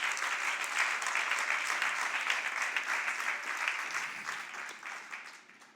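Sustained applause from a church congregation during a worship service, a dense steady clapping roar that fills the space and gradually thins and fades toward the end.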